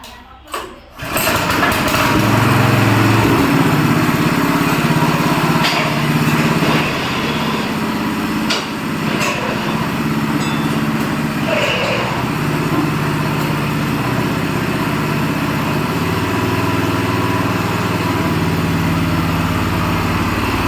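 A 7 hp Fortune power weeder engine starts with a short rattle, then runs steadily and loudly for the rest of the clip, a buzzing small-engine drone with a faint sharper whine layered over it.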